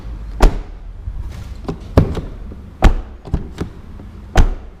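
A car's rear door, freshly lined with Dynamat sound deadening, is shut several times, giving four solid, dull thuds spaced about a second apart, close and heavy, with faint handling noises between them.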